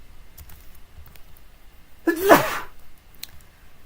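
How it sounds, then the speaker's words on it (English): A single sharp sneeze bursts out loudly after a near-silent stretch, with faint clicks from a computer keyboard before and after. "Sneeze."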